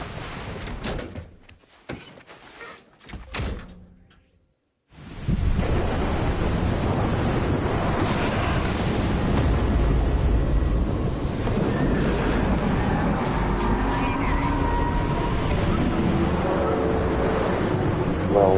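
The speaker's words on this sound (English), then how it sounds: "It's a really strange storm." Storm wind in the video game Death Stranding Director's Cut: after a few seconds of faint, broken rumbles and a brief silence, a loud, continuous roaring gale rushes in and holds steady to the end, with no talking.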